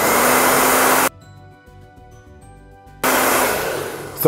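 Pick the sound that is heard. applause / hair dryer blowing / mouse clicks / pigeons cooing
hair dryer blowing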